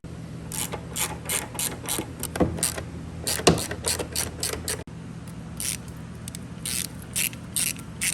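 Ratchet wrench loosening a bolt on the carburetor of a Polaris Sportsman 400 H.O. ATV, rapid clicking bursts repeated in short runs, close and moderately loud, with brief scraping between strokes.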